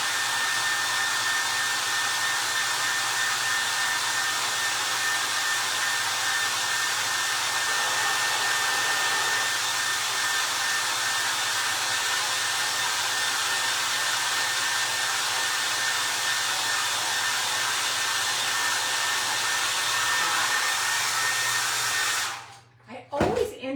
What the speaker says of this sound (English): I always end up touching my stuff with the dryer.